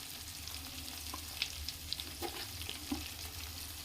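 Onions, curry leaves and coriander seeds fry in a pan for paneer butter masala, giving a steady close sizzle with a few soft pops and stirring scrapes, no voices.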